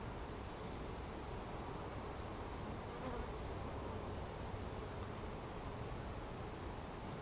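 Honey bees buzz steadily around an open hive during a routine inspection, a dense continuous drone of many insects close by, unchanging in level and with no talking.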